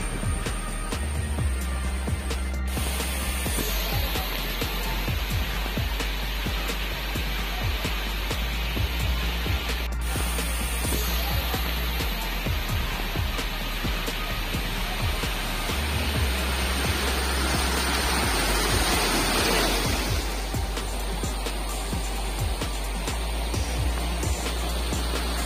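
Steady broadband rushing of a forest stream flowing downhill through jungle near Chelikuzhy waterfall in Konni, continuous and fairly loud with no voices.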